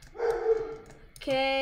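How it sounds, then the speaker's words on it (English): A dog barks in the background of a gaming session, giving a couple of short, sharp yips set back in the room while someone speaks briefly nearby. "I do apologize for my dog barking in the background"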